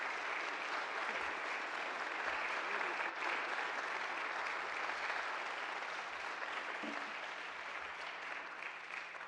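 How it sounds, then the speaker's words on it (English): An audience at a church history talk applauds steadily for several seconds, a dense, even clapping from a roomful of people that thins slightly toward the end. "let's give Dave another round of applause"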